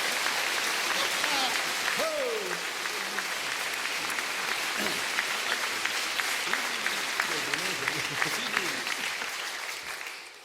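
Sustained applause from an audience at a barbershop quartet show, steady dense clapping throughout with a voice talking over it now and then.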